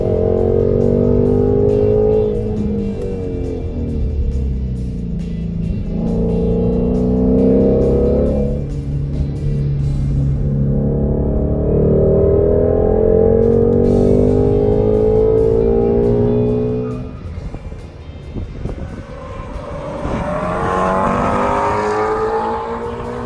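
A 2019 Ford Shelby GT350 Mustang driven hard on a track, its engine loud and near, surging through repeated rising revs and gear changes, with a brief lull before it builds again.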